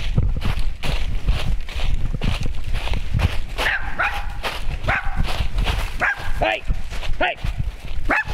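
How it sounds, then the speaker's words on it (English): Hunting dogs on a deer chase barking repeatedly in the distance through woods, a ragged run of barks and yips over close rustling steps and brush noise. "The dogs are barking, so the dogs have already found the deer."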